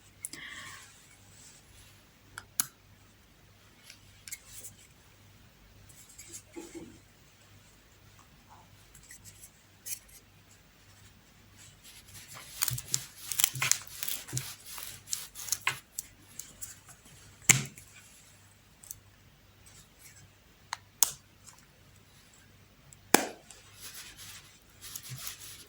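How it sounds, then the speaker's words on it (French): Worn tip of a siwak (arak) stick being cut, a quiet room with scattered sharp clicks and snips, a brief cluster of scraping cuts in the middle, mostly isolated close taps. "je vais vous montrer comment on fait en fait pour couper le bout quand il est trop usé"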